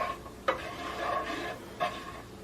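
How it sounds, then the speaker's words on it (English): A spoon stirs chicken Florentine sauce with melting cheese in a pan over raised heat, giving soft scraping and faint sizzle with a couple of sharper clinks against the pan. "Stir that in and it's going to start to melt"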